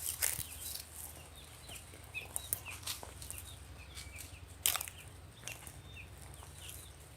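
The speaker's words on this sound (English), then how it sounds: "oh, more chickens." Chickens cluck and call in a farmyard, scattered short bursts of fowl noises at moderate distance over a low steady background hum, with a few louder squawks and no talking.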